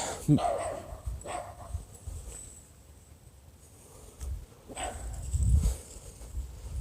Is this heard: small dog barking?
yes